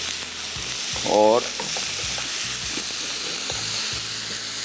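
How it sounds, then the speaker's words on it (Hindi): Minced beef frying in a pan with a steady low sizzle, overlaid by repeated scraping and stirring knocks of a spoon against the pan, plus a brief squeaky clatter early on; close and moderately loud, no talk. "कीमे को थोड़ा सा फ्राई कर लिया"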